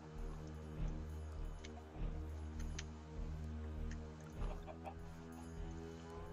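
Blocky Minecraft chickens cluck repeatedly in a dense, steady layer of short calls over a constant hum of game background sound, with no voices.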